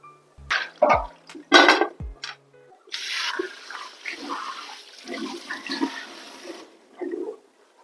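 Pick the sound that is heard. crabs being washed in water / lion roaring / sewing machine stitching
crabs being washed in water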